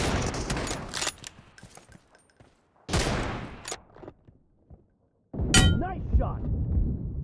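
Gunfire in the mobile battle royale game BGMI: several loud bursts of shots with metallic clangs, broken by short gaps and a brief silence, then a final heavy burst, with voices talking in between.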